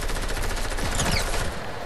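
Rapid automatic gunfire in the Fortnite video game, a dense, loud, continuous burst of shots lasting under two seconds, with no talking over it.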